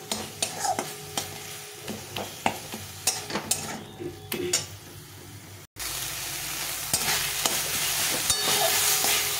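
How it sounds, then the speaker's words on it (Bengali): Bottle gourd leaf bharta stirred in an oily pan: repeated scraping and stirring strokes over a frying sizzle, then a continuous louder sizzle after a short break, fairly close and with no talking. "এভাবে ভালো করে নেড়ে করে ভর্তাটাকে বানিয়ে নিতে হবে"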